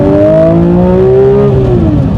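Porsche 992 S/T engine pulls hard under full throttle, a loud close rising mechanical howl whose pitch climbs steadily before dipping briefly at an upshift.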